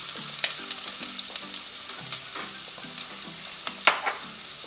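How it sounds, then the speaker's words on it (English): Carrots and onions frying in sesame oil, a continuous close sizzle with scattered pops and stirring scrapes, and no voices. "So we're gonna cook these carrots and onions real quick."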